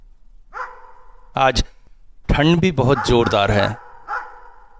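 Dogs barking outside a window at night in the cold, with several sharp close barks in bursts and a few distant yelps, while someone speaks quietly in between.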